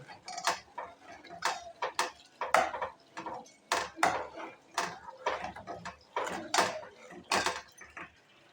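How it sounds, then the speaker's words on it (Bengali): Kheer, a pot of milk and sugar, being stirred with a spoon, giving a steady run of clinking scrapes and taps against the metal, fairly close and with no talk over it. "চিনিটা দিয়ে বেশ কিছুক্ষণ আরও কিছুক্ষণ নাড়াচাড়া করতে হবে"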